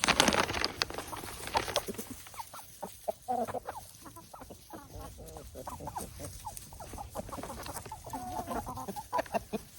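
Backyard chickens cluck and chatter excitedly as they crowd around for snack treats, several birds close by making overlapping clucks and short squawks, with a brief rustle at the start.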